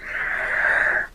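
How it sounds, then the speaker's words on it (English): A person breathes hard and steadily with a raspy, wheezy draw, a single long breath lasting about a second, close to the mic with no talking. "I don't know why I'm breathing so hard"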